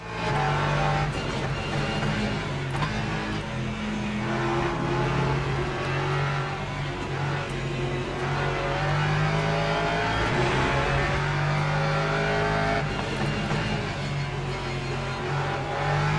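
Lexus race car engine in the Le Mans Ultimate racing game, a loud sustained roar with shifting revs and gear changes, other cars passing close by, continuous throughout with no pauses.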